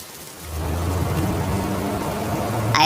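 Steady, dense rain with a low thunder rumble in a Bangla cartoon storm over ripened crops. The downpour holds even and fairly loud throughout, with no voices.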